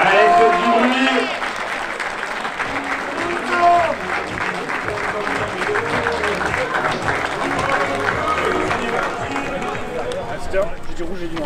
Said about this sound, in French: je vous demande d'applaudir les deux équipes s'il vous plaît